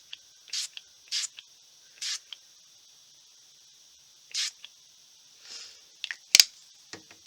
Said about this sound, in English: I always spray off in the trash can first